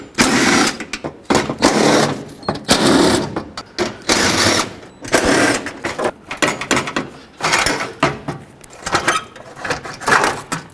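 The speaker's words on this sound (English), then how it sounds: "So I'll just take out all the 10mm bolts that are holding this on, including this bracket over here." A ratchet works loose 10mm bolts on an engine bracket of a 2009-2013 Honda Fit, with loud, close bursts of rapid clicking separated by short pauses, repeating throughout.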